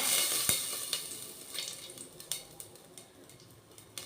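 Cloves frying in hot ghee for ghee rice, a steady close sizzle punctuated by sharp clicks and pops of spices and utensils against the pan, with no voices.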